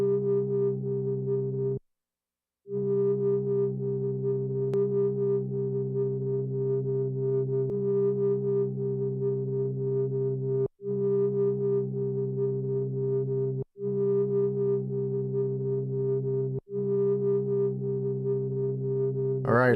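Reversed ambient synthesizer sample from an Elektron Model:Samples: a sustained droning chord of steady tones, repeated in long loops broken by short gaps and sharp cutoffs, ending in a brief swelling rise.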